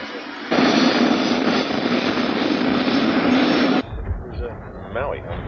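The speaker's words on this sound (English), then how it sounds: "Now the helicopter is in the air." A helicopter's loud, steady rotor and engine roar fills most of the clip, then cuts off abruptly, leaving quieter background noise and a voice.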